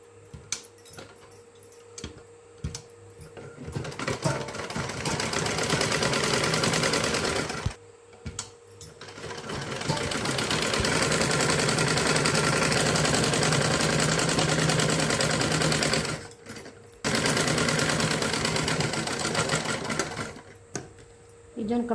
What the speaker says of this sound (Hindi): अभी हमें चारों ओर ऐसे सिलाई मार के बंद कर देगा